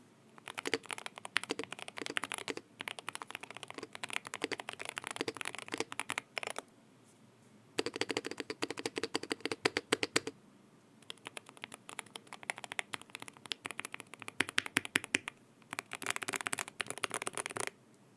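Bursts of rapid, clicky typing on a Keychron K2HE mechanical keyboard, close and crisp, with brief pauses between runs of keystrokes.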